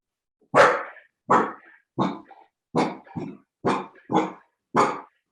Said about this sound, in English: Someone's dog's not happy about the cats in the room.